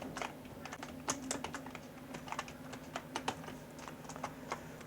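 Computer keyboard keys tapped in quick irregular bursts while a company name is typed into accounting software, close and fairly quiet over a low steady hum.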